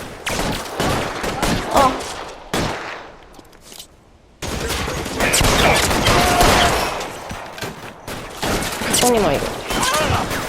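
Bursts of gunfire in the video game L.A. Noire, dense overlapping volleys from several weapons, loud and near, broken by a short lull, with someone speaking over the shooting.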